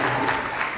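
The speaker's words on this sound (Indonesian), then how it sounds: "Yuk tepuk tangan buat kita semuanya." A lecture audience gives a short burst of applause, steady clapping that carries at an even level through the whole brief moment.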